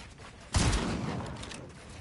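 A single sharp burst of video game gunfire erupts halfway through, loud and close, then trails off into a noisy decaying tail.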